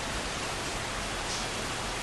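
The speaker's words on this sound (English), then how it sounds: "well, I got some rain to enjoy." Steady broadband rain hiss, even and unbroken throughout, with no voices or other distinct sounds on top.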